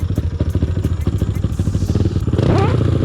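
A close 125cc motorcycle engine chugs at idle indoors, then is revved so the pitch climbs and the sound grows louder.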